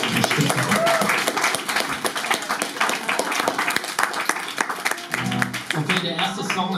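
A concert audience at a small venue in Hanau claps for itself in loud, dense applause that continues throughout, with a voice speaking over it toward the end.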